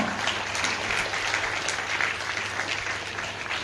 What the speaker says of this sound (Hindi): इस समय तालियां जोरदार हो।